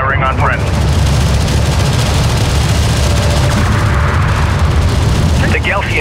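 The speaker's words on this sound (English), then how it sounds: "Enemy railgun firing on friendly." An enemy railgun fires in the sci-fi desert strategy game Homeworld: Deserts of Kharak, a loud continuous rumble of heavy booms and blasts with radio-style voice chatter over the top.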